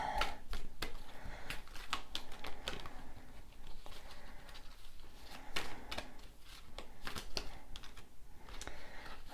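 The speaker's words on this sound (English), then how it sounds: "This shuffle feels very messy, like a lot of cards keep wanting to kind of come out" Rapid, irregular riffling and slapping of a deck of tarot cards being shuffled by hand, close up, in quick bursts with brief pauses between.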